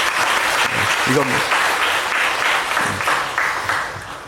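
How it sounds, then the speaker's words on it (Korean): Church congregation applauding during a Sunday service, a steady dense patter of many hands at moderate loudness, with a pastor's voice speaking over it. "일부 성도들은 박수를 쳤는데"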